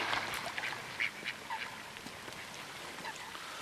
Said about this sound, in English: Look at the ducks, they're enjoying themselves.